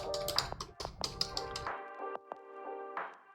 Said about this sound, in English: Open the terminal or command prompt and type in Docker version.